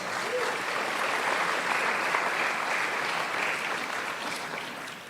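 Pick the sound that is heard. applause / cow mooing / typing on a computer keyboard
applause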